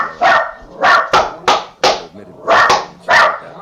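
A dog named Savo barks loudly and close by in a rapid series of about seven sharp barks at an uneven rhythm, with brief gaps between them and no talking.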